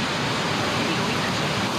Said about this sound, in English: We saw the stunning waterfalls.